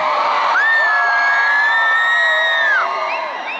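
A concert crowd at a show in Amsterdam cheers, whoops and screams in a loud sustained roar, with one high shout rising above the noise before it fades slightly.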